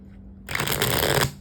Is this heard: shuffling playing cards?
yes